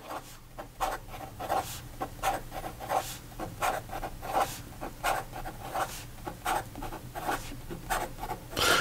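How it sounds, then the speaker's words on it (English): A Pilot Elite E95S fountain pen scratches quickly across paper in a steady run of short, rhythmic strokes, close up and continuous with no talking. "And then in regard to fast writing on the Elite,"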